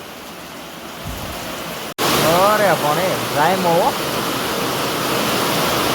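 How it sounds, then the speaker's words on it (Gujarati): Steady, heavy rain roars throughout, with a brief cut near the start, while someone talks loudly over the downpour for a couple of seconds. "વરસાદ જુઓ વરસાદ તો તમે જોયો"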